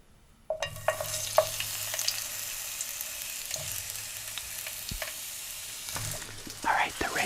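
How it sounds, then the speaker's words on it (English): Red peppers sizzle steadily in a hot frying pan, close up, with a few clinks and scrapes of stirring over a continuous frying hiss. "I gotta put the peppers in first because they take longer to cook than the onions."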